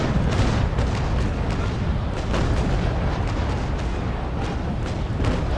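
Ship cannons in the naval combat game Naval Action let loose a chain-shot volley, a dense run of deep booming blasts that roll together into one continuous loud rumble.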